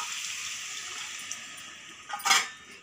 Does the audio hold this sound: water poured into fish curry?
yes